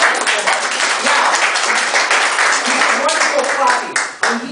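Audience clapping at a charity auction during a recognition night, a dense, continuous round of applause close by that fades briefly near the end.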